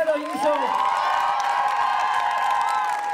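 Dance battle audience at the Break A Leg 2022 all-style final in the Meervaart theatre, cheering and applauding in a steady, dense wash of crowd noise with whoops and shouts that stays loud throughout.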